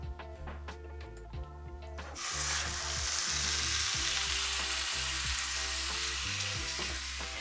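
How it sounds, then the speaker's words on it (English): Meat for a pot roast hits a hot pan and a loud, steady sizzle bursts up and continues, with faint ticking clicks underneath. "Did you hear how good of a sear sound it made when I set that on there?"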